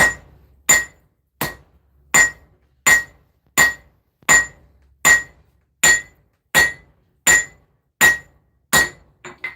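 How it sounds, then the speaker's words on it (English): A hammer strikes a hot knife blade on an anvil during forging, about a dozen sharp ringing blows at a steady, unhurried rhythm, loud and close with nothing else audible. "get our knife nice and hot, back to the anvil, spreading the material as wide as possible, just like so"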